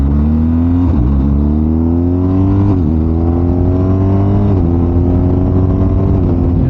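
A BMW R1250GS motorcycle engine pulls hard through the gears, its tone climbing steadily with a few brief dips at each shift, loud and close throughout.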